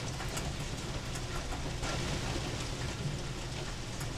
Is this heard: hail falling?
yes